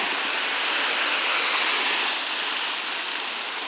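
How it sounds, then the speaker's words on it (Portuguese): Heavy rain pours down in a steady, loud, unbroken hiss with no distinct drops or pauses, heard alone throughout. "Deus mandou a chuva"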